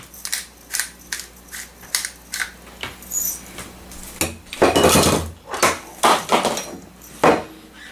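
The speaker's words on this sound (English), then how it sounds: "hit it with the pepper grinder." Pepper grinder cranked over a bowl of bacon avocado pasta, giving a close run of short, evenly spaced grinding clicks that turn into louder, rougher crunching bursts toward the end, with no talking.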